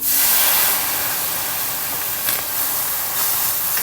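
Water splashed into a hot pan of browning onions and carrots sets off a loud, steady steam hiss that holds throughout with slight surges.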